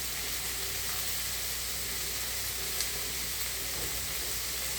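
Sweet corn sautéing in butter in a pan, a steady soft sizzle and hiss that continues evenly throughout, faint and without talk.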